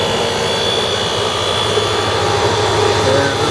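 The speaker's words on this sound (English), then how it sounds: "you can hear the compressor running" A Friedrich EM24N34A air conditioner compressor runs with a steady, loud mechanical drone and a constant hum, holding even throughout with no pauses.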